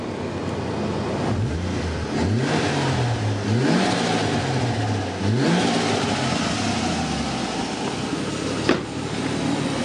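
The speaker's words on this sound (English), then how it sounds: "just give it a bit of a rev." A car engine idling and then revved a few times during a coolant change, each rev climbing and dropping back to a steady idle, loud and close with no talk.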